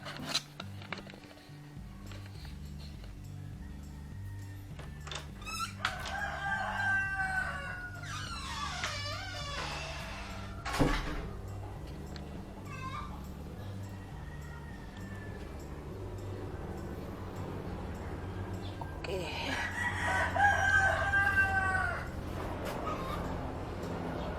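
Gamefowl roosters crow in a few drawn-out calls, one group around the middle and another near the end, over a steady low mechanical hum.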